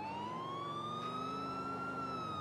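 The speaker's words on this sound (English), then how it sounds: "A red call is driving somewhere quickly but safely with your sirens on." A police car siren wails in a driving simulator video game, one long smooth rising tone that is loud and steady over a low engine rumble.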